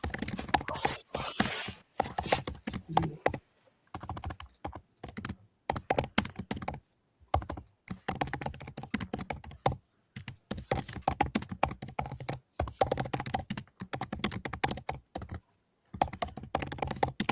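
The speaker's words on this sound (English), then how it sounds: "When you hear the power typing, that means I'm logged in" Rapid bursts of computer keyboard typing, close and crisp, come in quick clattering runs broken by short pauses.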